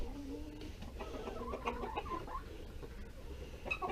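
Chickens cluck steadily around crowded poultry feeders near an electric poultry fence, a busy overlapping chatter of fowl calls over constant farmyard background.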